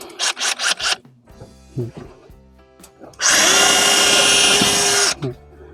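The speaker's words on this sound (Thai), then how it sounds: "การเจาะเลยนะครับ" A DeWalt DCH072 cordless rotary hammer bores into material in one steady burst of about two seconds, a loud close whirring grind that follows a few short knocks and handling noises.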